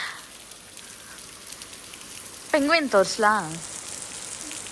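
Rain falling beside a small resort plunge pool, a steady close hiss of drops on water and surfaces, with people talking briefly partway through.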